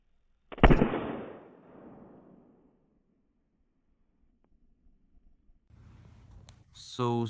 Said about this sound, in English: The firecracker exploded.